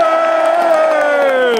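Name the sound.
crowd applauding and cheering at a rally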